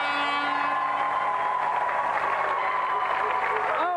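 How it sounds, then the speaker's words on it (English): A studio audience applauds for a volunteer on a game show, a few seconds of steady clapping and crowd noise under music, with a voice speaking over it. "Round of applause for our volunteer."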